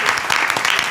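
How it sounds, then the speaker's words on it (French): At a French comedy show, an audience gives a short, loud burst of clapping that fills the whole moment without pause. "Tonnerre d'applaudissements pour mon Lolo."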